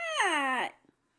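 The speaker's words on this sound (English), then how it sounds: "You could probably hear him meowing." A single drawn-out meow, close and fairly loud, sliding down in pitch before fading into silence.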